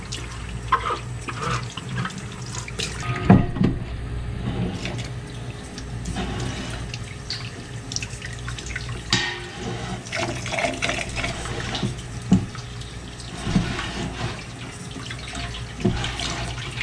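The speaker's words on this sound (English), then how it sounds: "So I'm rinsing the stuff that has milk on it off." Warm tap water runs steadily over milking equipment being rinsed of milk, a continuous splashing stream with occasional clinks of the equipment, close up and with no talking.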